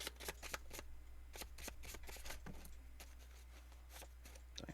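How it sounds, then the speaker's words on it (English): Playing cards being shuffled up close, a series of sharp riffling bursts in quick irregular rhythm over a low steady hum, quiet and alone. "let's do another shuffle"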